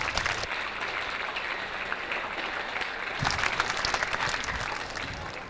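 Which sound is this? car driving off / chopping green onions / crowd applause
crowd applause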